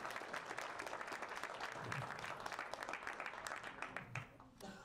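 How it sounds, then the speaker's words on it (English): Very faint applause from an audience at a tech panel event, scattered hand claps that thin out toward the end, with some speech mixed in at low level. "please, a round of applause for everyone I just named"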